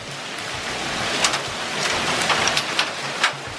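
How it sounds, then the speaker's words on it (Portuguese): Hail pelting down during a sudden hailstorm, a dense steady hiss of hard pellets with scattered sharper clicks of individual stones striking nearby surfaces. "tá chovendo granizo"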